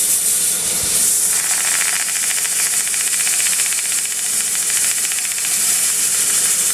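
A homemade self-powered sanding platter tool with a bronze bearing and rare earth magnet runs steadily, giving a continuous loud hiss and whir with faint rattling throughout.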